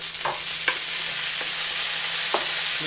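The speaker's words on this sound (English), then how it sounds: "And now we pop in the broccoli." Broccoli hitting a hot pan with garlic, a loud continuous frying hiss with a few sharp crackles and clinks from the spoon, close up and with no voices.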